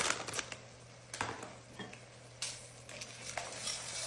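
Macaroni pasta stirred in a cooking pan, with a spoon scraping and clinking against the pan in irregular bursts over a faint sizzle, close and fairly loud with no talk.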